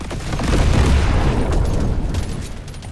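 Dense, rumbling explosions and rapid blasts fill the action of the video game Deep Rock Galactic Survivor, loud and continuous with a booming low end and crackling bursts throughout.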